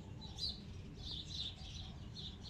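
A rescued sparrow chick gives repeated thin, high chirps in short bursts. They are faint but close, over a low steady background hum.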